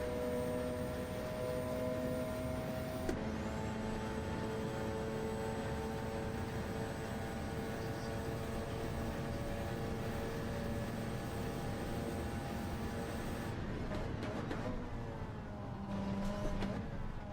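Race cars in a Le Mans racing video game drive down the straight, their engines holding a long, steady drone, with shifting pitches and a second car's note sounding just behind.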